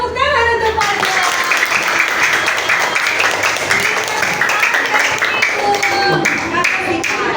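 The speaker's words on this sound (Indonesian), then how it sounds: "tepuk tangan untuk Fajar." A classroom of people claps together in a dense burst of applause, with children's voices chattering over it.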